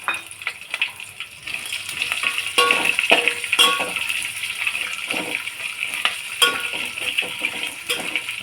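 Peanuts fry in hot oil with green chillies for upma, making a close, crackling sizzle broken by bursts of spattering and stirring clatter that rise and fall over several seconds, without speech.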